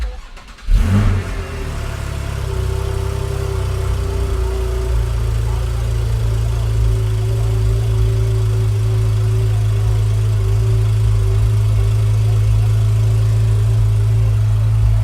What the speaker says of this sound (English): Then we go ahead and turn on the car.